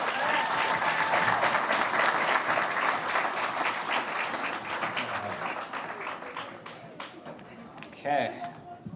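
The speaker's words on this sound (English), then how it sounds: "So let's give him a round of applause." Audience applause fills a room at the Revere Chamber of Commerce 2023 gala and awards night, a dense steady clatter of many hands. It thins toward the end, and a brief voice cuts in near the close.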